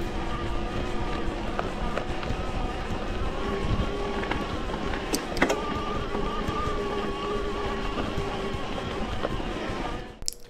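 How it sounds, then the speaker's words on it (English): Bosch SX mid-drive motor on a Canyon electric mountain bike, a steady whining hum with faint tonal lines held evenly for about ten seconds, mixed with wind and rolling noise, ending in a brief clatter. "Next motor is the latest mid-power motor, the Bosch SX motor with 55 Newton meters of power,"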